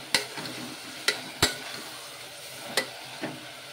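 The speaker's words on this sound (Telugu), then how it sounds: "ఇలా వేసుకొని మొత్తం ఒకసారి బాగా కలిపేసుకోవాలి." Tomato and spices are stirred into an eggplant and dried fish curry in a pan, with a soft sizzle beneath five or six sharp spoon knocks against the pot.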